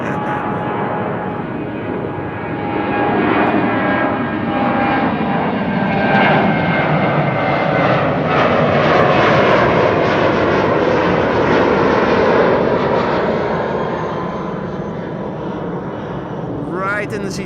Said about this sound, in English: This is BA to London Heathrow.